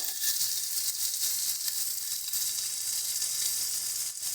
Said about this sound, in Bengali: ভালো করে মশলাগুলোকে একটু নাড়িয়ে নেব